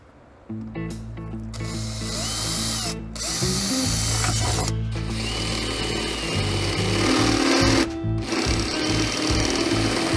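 A power drill whines steadily at close range, its motor pitch holding nearly constant with brief dips as the trigger eases off and back on.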